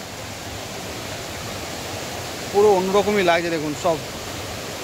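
A waterfall where people gather to bathe in Simlipal National Tiger Reserve gives a steady, broad rushing roar throughout, and a person speaks over it partway through.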